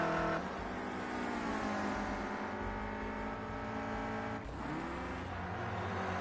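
A Renault Clio Cup race car laps the Brands Hatch Indy circuit, its engine loud and close, holding a high rising whine, dipping briefly at a gear change and climbing again.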